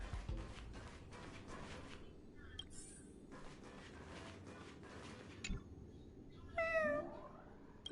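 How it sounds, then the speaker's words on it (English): A cat meowing in the video game Honkai Star Rail, a couple of faint high mews late on, with quiet background sounds and brief soft talk earlier. "It's a cat."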